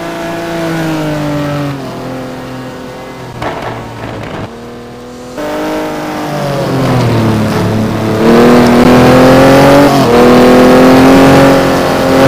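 A Ferrari 550 GT1 race car on Michelin tyres at Suzuka in a racing game: loud, close engine revving and shifting through gears with rising and falling pitch, some tyre noise, no voices.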